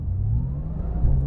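A Porsche 911 GT2 RS pulls away with a steady, loud, close engine drone and low rumble that lifts slightly as it gathers speed, with no talking over it.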